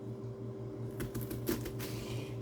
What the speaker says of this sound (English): When you do julienne cuts like this, that's considered julienne